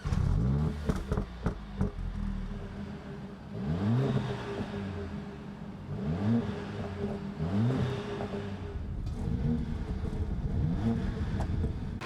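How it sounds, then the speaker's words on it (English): A 2022 Mercedes-Benz C63's 2-litre four-cylinder engine revs in repeated rising blips, a fairly faint mid-pitched buzz swelling and dropping every couple of seconds, with a few clicks at the start. "2 litre 4-cylinders are not the best sounding engines in the world"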